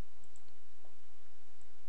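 Computer mouse clicks during a software installer form, a few sharp, close clicks against quiet background hiss.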